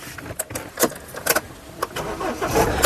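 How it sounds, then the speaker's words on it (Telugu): A 2020 Mahindra Thar LX 4x4 starts on a single self-start, with a few short mechanical bursts of cranking before the engine catches and swells at the very end, close by. "ఒక్కసారి సింగిల్ సెల్ఫ్ లో స్టార్ట్ అవుతుందా లేదా అన్నది చూపిస్తాను, చూడొచ్చు."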